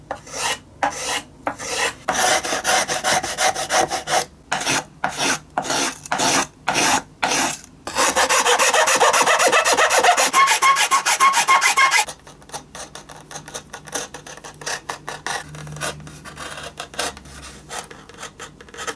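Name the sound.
trimming violin linings with a hand tool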